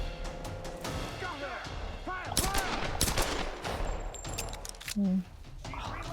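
Gunfire from the Tomb Raider video game comes as bursts of sharp shots and repeated firing, mixed with game effects, while a person talks over it.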